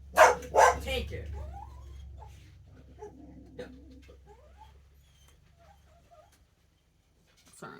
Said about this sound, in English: Sorry, my dog is spazzing out in there.